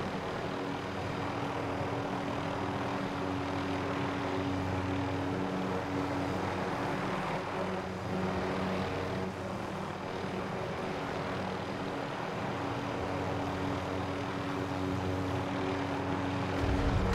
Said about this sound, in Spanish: me chocó un helicóptero